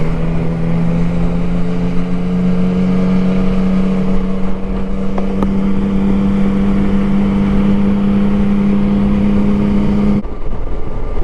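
A Yamaha Tracer 900 motorcycle with its CP3 three-cylinder engine holds a loud, steady hum at constant speed, close up, before the note drops away near the end.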